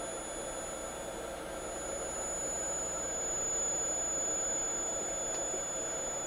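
A Fanuc industrial robot arm jogging its joints gives off a steady mechanical whine and hum with a thin high-pitched tone, holding at an even loudness throughout with no talking.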